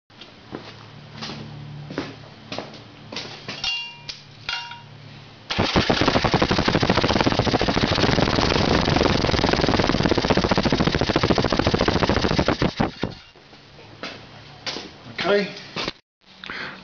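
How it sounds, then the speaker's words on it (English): A Harley-Davidson Evolution Sportster engine with a carburettor problem fires up into a loud, rapid, rattling run for about seven seconds, then cuts out. Talk and handling noises come before and after. "So what I'll do now is I'll start the engine up"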